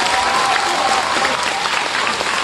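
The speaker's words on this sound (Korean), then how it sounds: "여러분 박수 부탁합니다" Audience applause at a residents' meeting about a Mokdong apartment complex: dense, steady clapping from many hands filling the whole stretch, with faint voices underneath.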